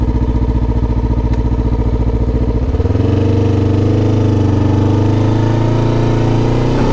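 A 2021 Honda CBR500R engine drones loud and close while riding. Its throbbing pulse shifts partway through into a smoother, steady roar as the revs and load change.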